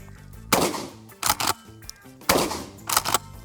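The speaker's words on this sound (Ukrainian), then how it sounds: "коли ми стріляємо з помпи, не робіть так" A pump-action shotgun fires four sharp, loud booming shots at uneven intervals, each with a short echoing tail, with quiet gaps and faint mechanical clicks of the pump between.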